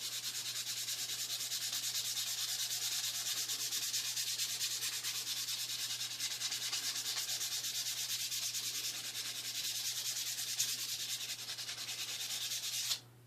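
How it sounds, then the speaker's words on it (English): Steady, continuous light sanding of wood, a dry hissing rub that runs without pause at an even level, with no talking, stopping abruptly at the end. "light sanding on this."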